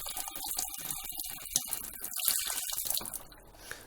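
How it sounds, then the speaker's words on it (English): Cold tap water runs and splashes over a Dyson vacuum filter in a sink, a faint, close, irregular trickling that fades toward the end. "run it under the cold tap until the water runs clean"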